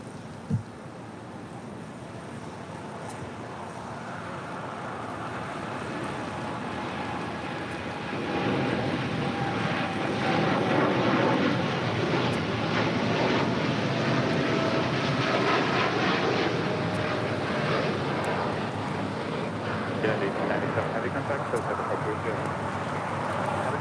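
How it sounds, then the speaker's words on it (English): A United Airlines Boeing 787-10 Dreamliner takes off from Los Angeles International Airport, its jet roar swelling from a distant hum into a loud, sustained rumble that holds to the end. "This is United Airlines 1897 taking off to Chicago here on a 787-10 Dreamliner."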